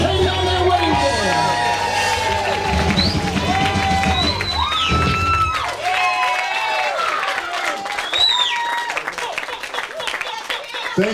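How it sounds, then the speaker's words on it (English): Wedding guests applaud and cheer for the couple, clapping and whoops rising loudly at first, then thinning out as chatter, whistles and scattered voices carry on in the room. "a big round of applause for Jan and Katie on their wedding day"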